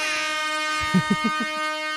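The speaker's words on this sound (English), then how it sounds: "So he gets the foghorn for sure." A foghorn sound effect plays as a steady, loud, brassy horn blast held for the full two seconds. A few short low thumps sound beneath it near the end.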